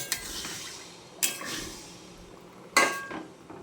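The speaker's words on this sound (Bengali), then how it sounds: "এবার ঢেকে রাখবো।" A lid is set on a cooking pot of chicken curry, producing two distinct metallic clanks with brief ringing, separated by quiet kitchen background.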